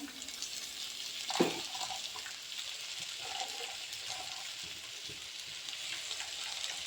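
Spinach leaves dropped into a hot frying pan for a Kerala-style cheera thoran, giving a steady soft sizzle with a brief louder hiss and clatter near the start, close and continuous without talk.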